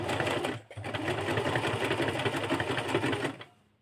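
A domestic sewing machine runs in one continuous loud burst of stitching after a brief pause near the start, then stops abruptly near the end, with no talking over it.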